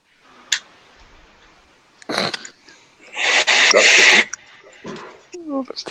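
A person sneezes loudly in a burst of noise, with shorter sharp sounds before it and some throat noise afterward, all close to the microphone.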